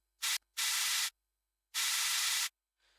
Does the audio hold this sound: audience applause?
no